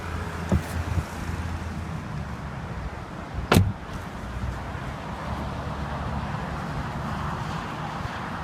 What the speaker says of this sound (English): With a single button on the console, the top folds into the trunk.